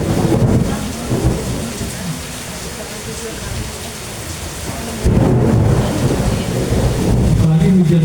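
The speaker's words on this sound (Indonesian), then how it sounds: "Apalagi hujan juga ya." Heavy rain pours steadily with deep rumbling thunder rolling through, swelling louder after the midpoint; someone speaks faintly beneath the storm noise.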